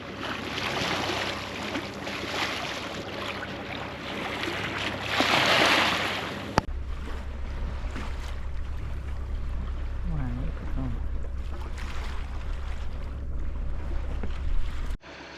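Steady low sailboat engine drone runs throughout at sea, with water wash and wind noise on top and a brief louder hiss of spray partway through.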